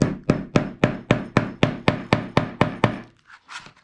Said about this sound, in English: Then I'm going to take my hammer